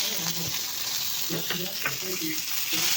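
Garlic and green chilies fry in a pan with a soft sizzle and a few stirring scrapes, while someone talks over it.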